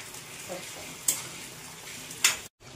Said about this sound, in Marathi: चला त्याला मी तळून घेते.